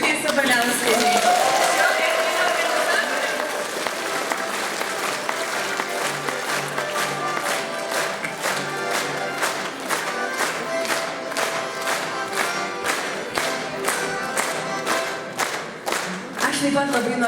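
Loud, sustained applause from a concert audience thanking the Ukmergė culture centre folk ensemble Pineva at a winter stage show, dense clapping throughout that turns into rhythmic unison claps toward the end.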